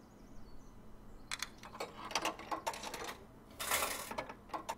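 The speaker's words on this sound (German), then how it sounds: "Snack und ein Cent Wechselgeld." A snack vending machine in the point-and-click game Secret Files: Sam Peters dispenses a bag of crackers and coin change: a run of quick mechanical clicks and rattles, then a louder, brighter clatter near the end.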